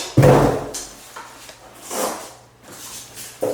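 A wheelchair charger for a Jazzy Passport power chair pulled from its cardboard box: a sharp scraping rustle at the start, then softer cardboard shuffles and a final knock, close and alone.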